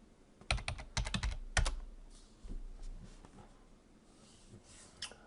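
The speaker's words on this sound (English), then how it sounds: "Of course, we need to enter in our password." Keys clatter on a computer keyboard as a password is typed, a quick burst of close, crisp clicks followed by a pause and a few scattered taps.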